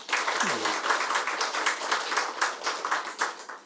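A church congregation claps continuously for several seconds during an early-morning service, the applause steady and fairly loud throughout.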